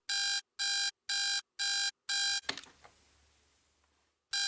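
An alarm clock in a bedroom ringing in five evenly spaced electronic bursts, loud and close, followed by a clatter and then quiet.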